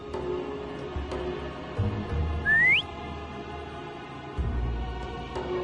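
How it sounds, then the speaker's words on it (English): A single rising whistle call to summon a companion in the Wuthering Waves video game, a short bright upward-sliding tone over a low game music and ambience bed. "Try whistling."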